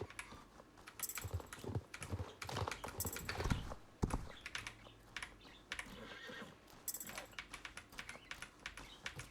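Horse hooves clop irregularly in a video game, alongside a couple of whinnies, with clicking keyboard-like taps mixed in, fairly quiet and close.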